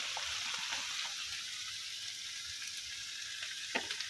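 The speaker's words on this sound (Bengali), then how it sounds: "তো পেঁয়াজ রসুনের সাথে ভালোভাবে ভাজা নিব।" Dried loitta fish frying with onion and garlic, a steady, even sizzle of hot oil that stays constant throughout, with a brief clink near the end.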